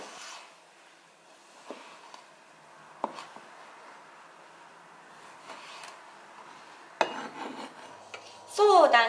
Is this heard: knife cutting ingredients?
yes